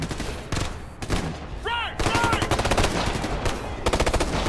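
Rapid automatic gunfire from the Warhound in Ghost Recon Future Soldier, loud bursts of repeated shots with brief gaps, plus a short whistling electronic tone amid the combat.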